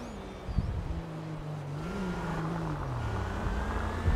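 A steady car engine in Grand Theft Auto Online drones and slowly shifts pitch, rising and easing off in a smooth, continuous tone with a faint whine.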